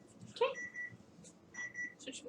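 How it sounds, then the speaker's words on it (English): A kitchen timer signals that a chicken parm bake is done with two short bursts of repeated high beeps, fairly faint and separated by a pause, amid quiet kitchen rustling. "our timer is telling us that we are done with the second bake of the BOMB Chicken Parm"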